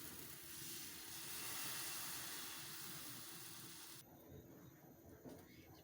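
Crepe batter with vegetables poured into a preheated frying pan, giving a soft, steady sizzle and hiss that fades after a few seconds into quieter crackling.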